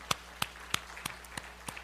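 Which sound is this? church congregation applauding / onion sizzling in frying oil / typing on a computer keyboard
church congregation applauding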